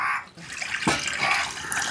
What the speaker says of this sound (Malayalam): ഇതിൽ നമുക്ക് വെള്ളം തിളപ്പിച്ച് അതിലേക്ക് ചൂടുവെള്ളം ഒഴിക്കാം